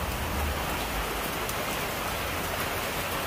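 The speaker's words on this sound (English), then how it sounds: "A rain a fall. Hard rain." Hard rain pours down outdoors at an open-air Jamaican cooking spot, a dense, even hiss of drops striking surfaces that stays constant throughout without any voices.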